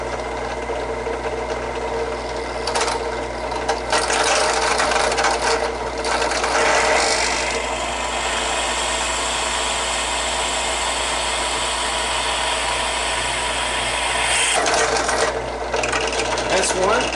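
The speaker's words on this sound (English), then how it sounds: "we're going to drill this" A drill bores holes into a lawn mower part during a curbside mower repair, a steady grinding whine running throughout with brief pauses and louder bursts as the bit bites, close and fairly loud with faint background noise.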